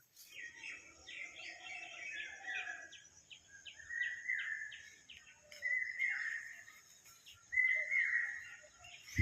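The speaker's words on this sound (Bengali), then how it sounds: "সকাল সকাল ঘুম ভাঙলো পাখির ডাকে গরুর ডাকে মুরগির ডাকে" Birds calling on a village morning, repeated high chirps and short trilling phrases at moderate distance over a quiet background.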